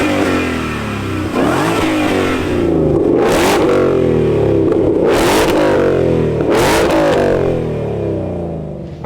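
A wide-body car with a supercharged V8 accelerates hard, the engine rising in pitch through several upshifts, loud and close with no talk.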